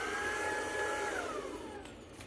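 A Dyson vacuum cleaner running with a steady high whine that slowly drops in pitch as it winds down, heard alone with no talking.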